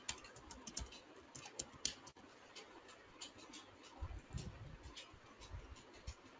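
Password being typed on a computer keyboard, a steady run of quick, light key clicks at close range, faint with no talking.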